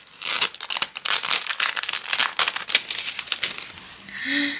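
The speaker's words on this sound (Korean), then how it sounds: "그리고 이거 포토케이스 특전도 뜯어볼게요" Crinkly plastic packaging of a K-pop photo case bonus being torn open by hand, a close, continuous burst of rustling and ripping that stops at the end as a short tonal chime sounds.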